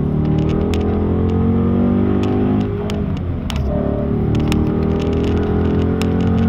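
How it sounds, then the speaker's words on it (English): A race car at Circuit Gilles Villeneuve accelerates hard from second or first gear. Its engine note rises steadily and loudly, with a brief dip partway through before it climbs again, heard close and alone. "down into second gear or first gear in the race car for this one, accelerating hard"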